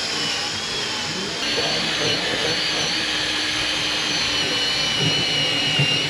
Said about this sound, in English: Keep going, keep digging. We're gonna Keep grinding.